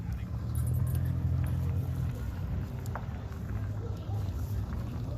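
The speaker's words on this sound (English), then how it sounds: "Here comes another car." A car rolls by at low speed on the grounds of a school bus and van gathering, a faint engine rumble rising and fading, with quiet background noise and occasional talk.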